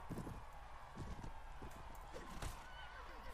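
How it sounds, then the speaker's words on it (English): Faint hoofbeats clop in an uneven run beneath a steady wash of noise, with a distant horse whinny mixed in, a horse galloping away in the video game Mount & Blade: Warband. "There goes your horse."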